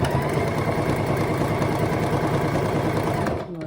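Sewing machine stitching the opening of a fabric face mask closed, a steady rapid mechanical chatter running nearly the whole time at close range before stopping at the very end.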